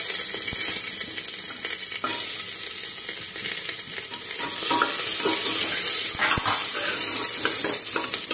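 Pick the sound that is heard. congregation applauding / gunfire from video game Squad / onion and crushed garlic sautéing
onion and crushed garlic sautéing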